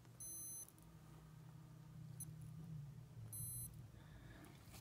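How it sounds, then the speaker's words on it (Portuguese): Two short, high electronic beep bursts from a 1985-style digital wristwatch's hourly chime sound faintly, separated by a few seconds, over a low hum. "É o bip de hora em hora."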